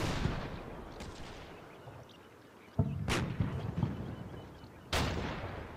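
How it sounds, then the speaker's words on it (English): Artillery shelling in the Combat Mission: Battle for Normandy war game, with heavy booming impacts landing amid a constant rumbling battlefield din; sharp blasts stand out near the three-second mark and again near five seconds. "That shelling on this is great."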